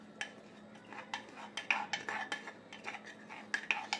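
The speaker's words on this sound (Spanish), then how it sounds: "Con la ayuda de una cuchara lo vamos a agregar a nuestro pescado." A metal spoon scrapes and clinks against a bowl as mashed garlic is added to fish, a series of short, close, quiet taps in an uneven rhythm, with no talking.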